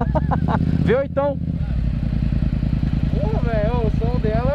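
Yamaha MT-07 motorcycle engine revving and dropping back, a loud, close, throbbing parallel-twin drone with rising and falling pitch sweeps, accompanied by brief talk early on.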